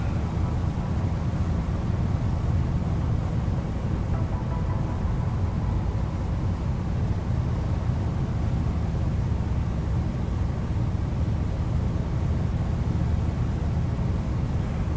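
Ship engine in the Fishing: North Atlantic game: a continuous low droning rumble with broadband hiss, steady and unchanging, with no talk over it.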